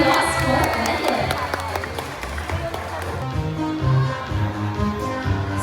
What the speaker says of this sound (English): How about a round of applause for Bandit?